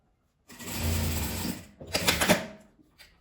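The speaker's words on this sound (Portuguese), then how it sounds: "eu vou virar e fazer a costura aqui do outro lado" A sewing machine stitches a fabric tulip-shaped pouch bag in a steady mechanical whir, running in two bursts of about a second each with a short pause between, close and clear with no talk.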